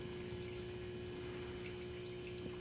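Water from an aquaponics system's return line pours steadily into a hobby garden setup, a continuous close-up rush of flowing liquid with a pump-like hum, no pauses and no voices.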